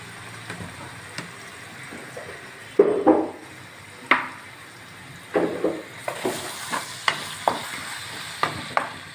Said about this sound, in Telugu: కొంచెం ఒక చిన్న ఆనియన్ కరివేపాకు వేసుకొని ఫ్రై చేసుకుందాం